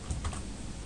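Typing on a computer keyboard, two or three quick close key taps followed by a faint trailing clatter.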